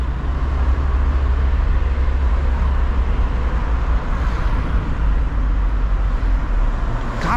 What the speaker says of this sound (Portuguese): Que o carro começa até a fazer um barulho diferente